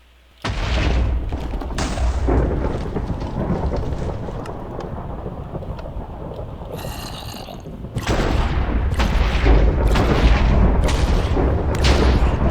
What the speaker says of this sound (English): will also do an explosion just like the Creeper